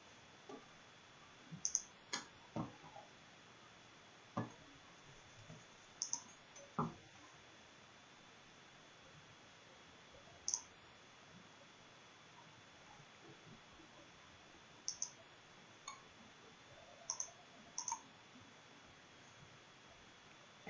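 Sparse, crisp computer mouse clicks, single and in quick pairs, scattered over a quiet room background with long gaps between them.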